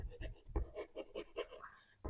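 Pen or marker strokes on a classroom board, a quick series of short scratchy scrapes in an uneven rhythm, close and fairly faint, with no talking.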